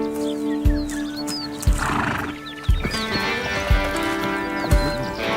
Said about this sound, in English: horses range from their powerful 45 km/h gallop to the 20 km/h canter, the 15 km/h trot, down to a slow walking pace